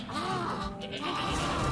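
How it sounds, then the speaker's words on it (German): A goat bleats in the video game Shadows of the Damned, a few wavering calls close by amid game sound effects and background noise, with no talk over it. "Er klaut mir wieder die Ziege."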